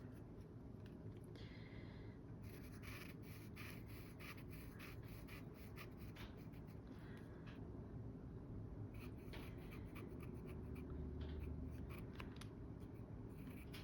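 Fine-nib Lamy Safari fountain pen in charcoal black writing on paper, a faint close scratching with quick strokes in irregular bursts.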